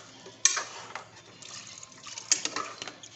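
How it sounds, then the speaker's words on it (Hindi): Water is poured into a cooking pot of dal and chicken, giving soft sloshing splashes with a couple of sharp clinks of utensil on metal, close by, with no talking. "अब मैं डालूंगी उसमें पानी"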